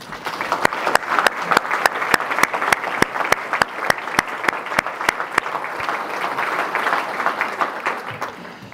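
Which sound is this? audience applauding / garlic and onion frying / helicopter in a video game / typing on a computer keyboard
audience applauding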